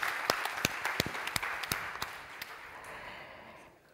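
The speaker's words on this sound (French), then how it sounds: "qu'on puisse applaudir vos productions et vos propositions" An audience at a Pact for Impact workshop session applauds the participants: a few distinct sharp claps, then a spread of clapping that thins and fades away over a few seconds.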